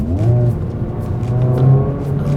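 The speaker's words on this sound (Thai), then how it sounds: "เสียงท่อเนี่ยดังขึ้นเนี่ยผมลองเปลี่ยนชิปเกียร์ลงให้ดู" A Honda Civic Type R with a 320-horsepower VTEC turbo engine is downshifted into first gear, making its exhaust louder. A close, steady engine drone rumbles with tones that rise and swell, and no one talks.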